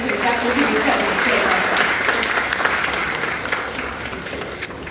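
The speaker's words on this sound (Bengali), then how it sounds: "একবার সবাই জোরে হাততালি হয়ে যাক অগ্নিমিত্রা মঞ্চে" Audience applause at an education expo as a minister comes on stage, a steady wash of many hands clapping that slowly thins out, with speech audible over it.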